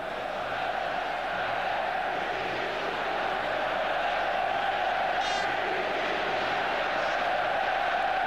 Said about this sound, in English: in the background if you can hear the crowd getting slightly restless